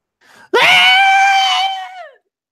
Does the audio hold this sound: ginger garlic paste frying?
no